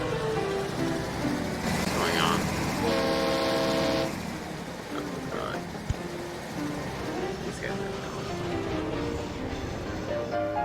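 A train horn in the video game Chris Sawyer's Locomotion sounds in a few steady blasts over continuous game ambience and rumble.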